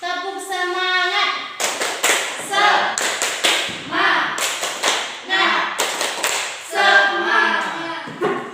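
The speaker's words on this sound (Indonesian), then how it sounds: "Tepuk semangat." A classroom of students performs a rhythmic spirit clap, bursts of sharp synchronized claps in a patterned sequence, alternating with sung or chanted vocal phrases, close and loud.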